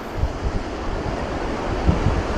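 Open water at Chandil Dam, heard as a steady low rushing wash with gusty wind buffeting the microphone, moderately loud and continuous with no voices.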